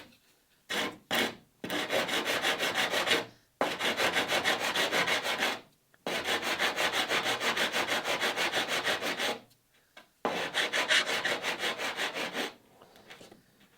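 Wooden dowels set in a lashing rail on a Catalina Wherry boat build are leveled off with a hand saw or rasp, heard as close rhythmic rasping strokes in several long bursts separated by short pauses.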